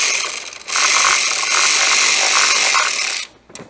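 Screw being loosened on a blower motor resistor in a 1998 Mazda B2500, a loud close ratcheting whir lasting about two and a half seconds, then stopping with a couple of faint clicks.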